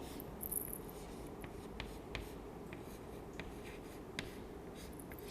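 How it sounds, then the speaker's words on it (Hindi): A pen moving on paper, a faint, steady scratching with a few light taps from strokes, heard close and quiet with no voices over it. "तो यहाँ लिखेंगे"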